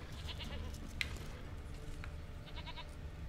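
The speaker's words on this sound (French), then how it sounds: "Ah j'entends la chèvre." A goat in The Witcher 3 gives faint, short bleats over a low game ambience, with one bleat near the start and a brief series toward the end.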